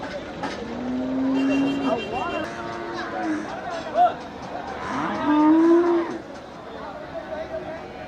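Cattle at the Melapalayam livestock market lowing in long, drawn-out moos, several calls close by, with people talking and a market crowd murmuring underneath.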